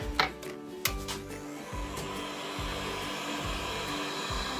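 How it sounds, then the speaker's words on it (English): A heat gun blows hot air to dry freshly applied chalk paste on a craft piece. A couple of sharp handling knocks come first, then a steady, close whooshing blower hum that continues to the end. "With my heat gun here"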